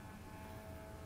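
A corrugated plastic combat delta wing model plane flying in calm air on its maiden flight, a steady faint propeller whine and motor drone heard from a distance, with no speech.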